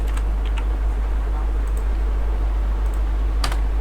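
Code being typed on a computer keyboard, scattered clusters of quick key clicks over a loud constant low hum, fairly close.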